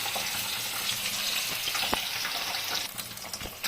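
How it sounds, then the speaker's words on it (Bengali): Boroli fish frying in hot oil for a tangy fish curry, a steady close hiss of sizzling with occasional sharper crackles and pops throughout. "এই একইভাবে সব মাছগুলো ভেজে দিই।"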